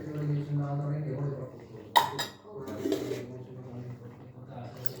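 Fish curry is cooking in a pot, with a single sharp metal clank of utensil against pot in the middle and soft kitchen clatter under voices talking nearby.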